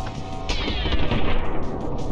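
Rapid bursts of gunfire in the video game My Friend Pedro crackle in close succession, loud and dense, with a sharp burst at the start and sustained shooting throughout.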